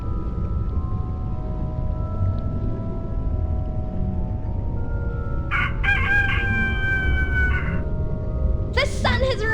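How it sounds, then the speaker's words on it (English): In a vampire adventure video game, a rooster crows from a device over a steady low hum and background tone, two bursts of crowing, the second brief and cut off at the end. "The sun has risen and the rooster crows."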